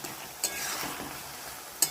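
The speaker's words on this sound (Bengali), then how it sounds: "এবারে এটাকে ভালো করে আমি আবারও নাড়বো বেশ কিছুক্ষণ" Prawns frying in a cooking pan give a constant sizzle, with a soft stirring scrape and two brief sharp clinks of the spatula against the pan, close and with no voices.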